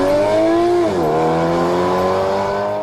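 Akrapovič exhaust on a sports car revving loud and close, a sustained harmonic engine drone that dips in pitch around the one-second mark and then holds steady.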